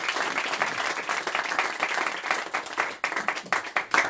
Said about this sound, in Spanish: Os dejo con Lucas Jiménez y un fuerte aplauso.